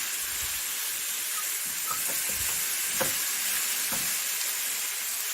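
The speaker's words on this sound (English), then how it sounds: "that's the minced meat all in now, and then I am turning it to get the heat around it" Minced meat frying and being stirred in a pan, a continuous close sizzle with scattered scraping and clinking stirring sounds, alone without talk.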